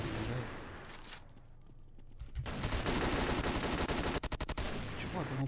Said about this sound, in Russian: Стреляю, стреляю, он не умирает.